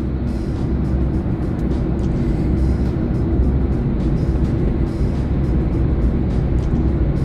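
Steady low engine and road rumble inside a moving car on a sunny day, continuous and even throughout with faint high rattles, and no voices.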